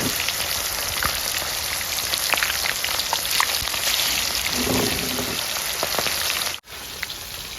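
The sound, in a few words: chicken leg pieces frying in hot oil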